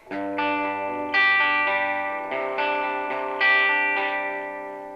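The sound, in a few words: PRS SE 50 amp guitar tone between clean and distortion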